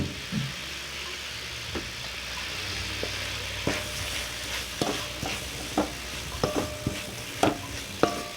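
Chili pieces frying in a pan, with a soft, steady sizzle under scattered clinks and scrapes of stirring that grow more frequent toward the end.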